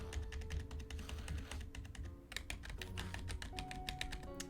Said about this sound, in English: my keyboard's quiet now.